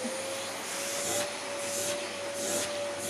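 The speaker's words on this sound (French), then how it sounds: "Voilà, j'ai terminé de passer l'aspirateur." A vacuum cleaner runs steadily close by during cleanup of a urine stain, a loud continuous whooshing drone with a thin high whine and slight surges in intensity, with no talking.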